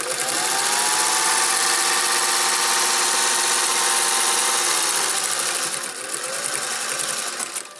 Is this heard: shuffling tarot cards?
no